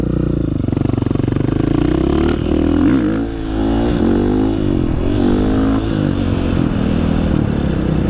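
A supermoto motorcycle engine revs hard and accelerates up close, loud and continuous with rising and falling pitch sweeps and a brief dip near the middle.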